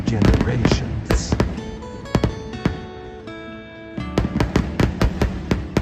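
Fireworks burst over Zushi, Japan in a rapid volley of sharp cracks and booms, then fall briefly quiet under a musical backing before another dense string of loud explosions.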